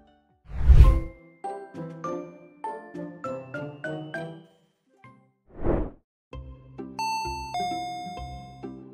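A doorbell-style intercom chime rings out in a series of bright tonal notes, set between a couple of loud whooshing bursts, with no voices, close and clear in a quiet home.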